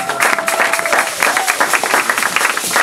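A standing church congregation applauds and cheers for the glory of the Lord. The clapping is dense and steady, filling the whole moment, with voices rising through it and a sustained tone briefly audible underneath.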